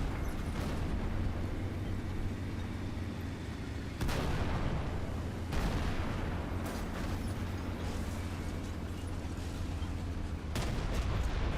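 Heavy artillery fire and shell impacts in the War Thunder tank game, a sustained rumbling barrage with sharp bursts near 4, 5.5 and 10.5 seconds, loud and dense throughout.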